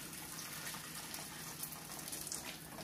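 Boiled water from a kettle poured into a pan to clean it, a soft continuous splashing gush running steadily and faintly without any voices.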